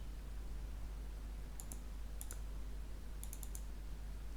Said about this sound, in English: double click on this theme shortcut